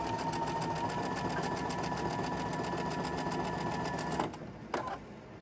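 A sewing machine stitches pieces of a summer table runner quilt top in a steady, close, continuous whir for about four seconds, then stops, followed by a brief mechanical click.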